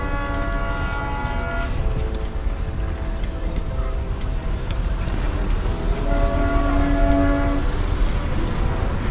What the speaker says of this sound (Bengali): There's another toy train somewhere. শুনতে পাচ্ছি আমি।